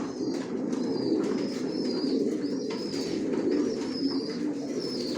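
Racing pigeons coo in a loft, a continuous layered murmur of many birds close by, with occasional higher chirps and a brief flutter of wings.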